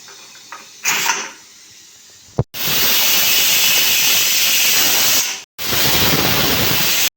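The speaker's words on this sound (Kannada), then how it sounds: "ಇವಾಗ ಸಣ್ಣ ಉರಿ ಇಟ್ಟು ಒಂದು 4 ವಿಸಿಲ್ ಹೊಡಿಸ್ಬೇಕು ನೋಡಿರಿ" A pressure cooker on low flame releases loud, sustained bursts of hissing steam, two long blasts with a short gap between them, after a brief softer hiss at the start.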